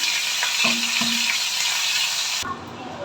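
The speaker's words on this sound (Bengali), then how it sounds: "একটু লাল লাল করে ভাজবো অল্প অল্প করে চিকেন ভাজি" Chicken sizzles loudly in hot oil with a steady crackling hiss, a few scraping stirs early on, then the sizzle drops abruptly near the end.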